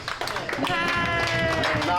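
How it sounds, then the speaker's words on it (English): An audience on a Disney cruise stop in Nassau applauds itself after a Junkanoo instrument lesson, with brisk clapping under lively crowd chatter and talk. "Give yourselves a round of applause"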